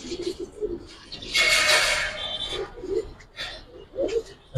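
Giribaz pigeons in a loft give repeated soft, low cooing calls in a rhythmic series, with a rustle of movement partway through and faint background voices.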